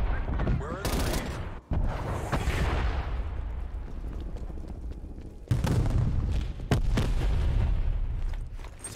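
Artillery barrage in Call of Duty: Black Ops Cold War multiplayer, with heavy booming blasts and rumbling explosions landing in clusters, loud and close, while in-game announcer voices speak over the gunfire.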